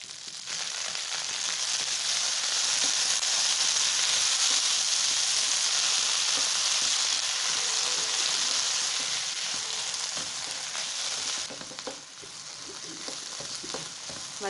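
Shallots and mint sautéing in a pan for mint rice, a steady loud sizzle that runs unbroken throughout with faint stirring scrapes, easing slightly near the end.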